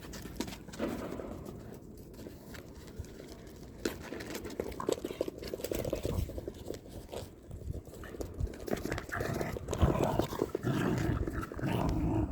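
Four small dogs let loose on a rooftop play together, with scrabbling paws, light patter and rustling, scattered yips and occasional bird sounds nearby, the activity growing busier toward the end.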